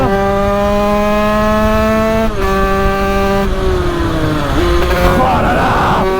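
A BMW 335d drifts with a loud, close engine tone that holds steady, then shifts and falls as it slides, with tire squeal rising near the end.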